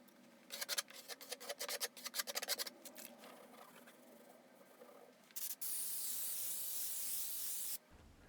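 Rapid, rasping bursts come first, then a steady, loud hiss of texture spray onto a drywall patch runs for a couple of seconds and cuts off abruptly.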